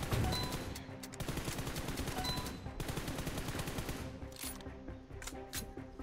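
Automatic gunfire in the mobile shooter PUBG Mobile rattles in rapid, continuous bursts, loud and close, with short gaps and a few separate shots near the end.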